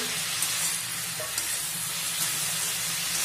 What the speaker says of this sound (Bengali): একটুখানি জল দেওয়ার পরে আমি কষাচ্ছি তরকারিটাকে